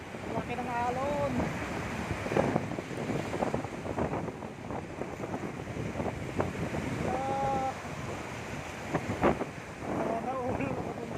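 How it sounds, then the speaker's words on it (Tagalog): Big waves rolling onto a beach at a Pangasinan resort, with steady wind buffeting the microphone; a continuous loud surf roar and a few brief voices in the background. "Laki ng alon."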